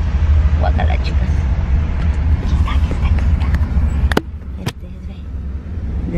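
A white car drives past on a street in San Pedro, California, a steady broad road rumble close by, with women chatting over it and a couple of sharp clicks near the end.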